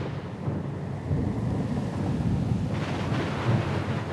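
A thunderstorm in the video game Wasteland 3 sounds as a steady wash of rain and a low rolling rumble of thunder that swells partway through and stays dense and continuous.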